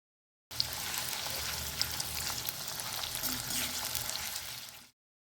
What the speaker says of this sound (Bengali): ঘি গরম হতেই মিহি করে কোচানো পেঁয়াজ ভেজে নেব বেরেস্তার জন্য।